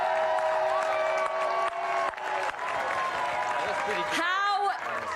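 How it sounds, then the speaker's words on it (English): Crowd at the Rally Finland 2025 post-event show applauds WRC winners Kalle Rovanperä and co-driver Jonne Halttunen, sustained dense clapping and cheering close by, with raised voices and whistles mixed in throughout. "Applause for Kalle Rovanperä, Jone Halttunen."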